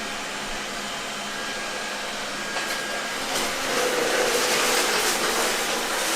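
A Xiaomi Roborock S50 robot vacuum cleaner runs nearby with a steady broadband whoosh of suction, growing louder toward the end as it works across the floor, with no voices.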